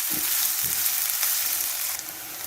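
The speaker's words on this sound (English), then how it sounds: "Now that the onions are about 3/4 of the way to being caramelized" Onions frying and caramelizing in a pan for egg fried rice, a steady close sizzle with broadband hiss and a few soft stir bumps, no talking.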